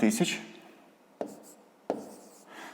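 Handwriting of numbers during a fifth-grade long-division exercise gives soft scratches of pen or chalk, a dense burst at the start and then two short separate strokes.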